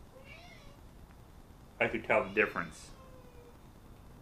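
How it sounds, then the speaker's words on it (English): A house cat meows several times in a quick burst, loud and close, after someone speaks in a quiet room. "Noisy cat."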